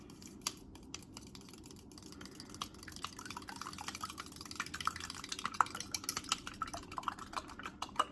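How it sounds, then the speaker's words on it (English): Soft, rapid clicking and scraping of a utensil whisking an egg in a small cup, steady and close, growing slightly louder. "break up the egg and put it in this cup container that I had and whisk that really quick"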